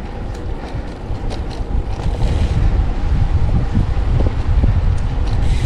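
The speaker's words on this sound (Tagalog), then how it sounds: "Lakas pa ng hangin." Steady, loud wind buffeting the microphone on a cold morning ride to Sanchong morning market, a constant rushing roar with gusts building stronger toward the end.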